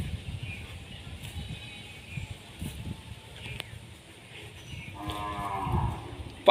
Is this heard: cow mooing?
yes